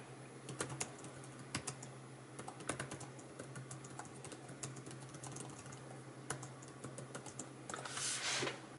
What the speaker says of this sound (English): so as you're typing